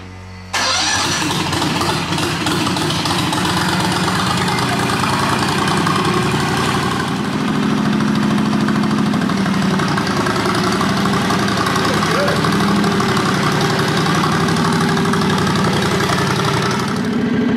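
A vehicle fitted with a Peerless 2300 differential and a hole-saw locker cranks over and catches, then settles into a steady, loud mid-pitched idle close by, with a person speaking over the running engine.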